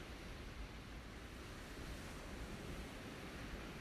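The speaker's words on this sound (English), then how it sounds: "That wind is really kicking today." Wind gusts steadily at a rocket launch site, a continuous broad rushing roar with microphone buffeting, even in level throughout.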